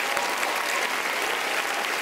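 Gala audience applauding comedian François Bellefeuille at an awards show, a dense, steady wash of clapping from a large crowd, sustained and fairly loud throughout.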